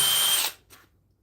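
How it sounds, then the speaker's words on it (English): A power drill whirs loudly for about half a second while pre-drilling a wooden 2x4, then spins down, followed by near silence. "I like to pre-drill the holes just to prevent splitting in the 2x4s."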